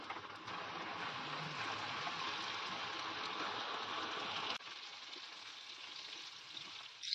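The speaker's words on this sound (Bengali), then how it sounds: "এবারে ফ্লেমটাকে মিডিয়ামে করে আমি এই চিকেনগুলো ছাড়বো।" Chicken popcorn pieces frying in hot oil over a medium flame, a steady dense sizzle throughout that drops slightly in intensity partway through, close and loud with no talking.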